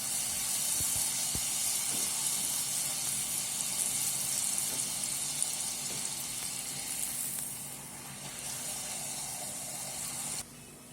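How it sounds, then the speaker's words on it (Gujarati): Oil sizzles and hisses steadily as dried pakwan flatbreads deep-fry until crisp, a constant crackling wash that drops a little quieter toward the end. "આ બધા પકવાન સુકાઈ ગયા છે, એટલે હવે આપણે આ બધા સરસ તળી લેશું"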